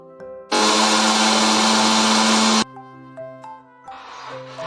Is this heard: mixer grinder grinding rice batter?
yes